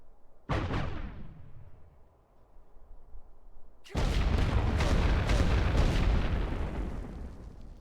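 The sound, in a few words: airburst artillery shell explosions from video game The Great War: Western Front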